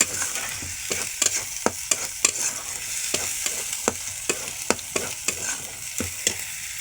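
Spice paste fries in oil, a steady close sizzle punctuated by a regular series of sharp spoon-against-pan stirring clicks.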